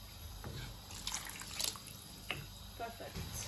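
Water is poured from a container onto 2.5 cups of basmati rice in a cooking pot, a steady splashing trickle with a few louder splashes, close up and fairly quiet.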